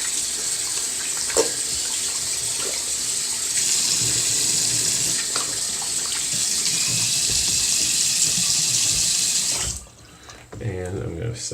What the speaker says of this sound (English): So we're going to go ahead and wash those hands off real quick.